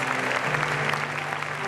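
Auditorium audience at the Premio Gabo 2026 journalism award ceremony applauding steadily, a dense, even wash of many hands clapping without pause.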